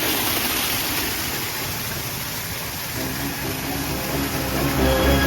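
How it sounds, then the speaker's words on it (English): Dense, steady rushing of a nearby waterfall, a broad hiss of pouring water that continues unbroken, with a faint low hum toward the end. "you probably can't hear much because of the waterfall behind me"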